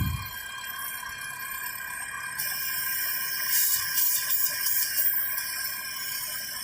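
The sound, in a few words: air hissing from an engine vacuum leak, 2012 Chevy Cruze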